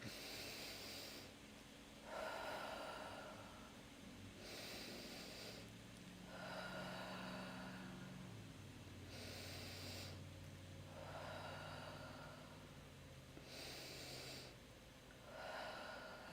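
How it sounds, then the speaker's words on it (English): Someone takes slow deep breaths, drawing in through the nose and blowing out through the mouth, as breathing exercise. About five airy, hissing breath cycles come in an even rhythm, close and soft, with no talking. "Now I'm going to take 5 deep breaths."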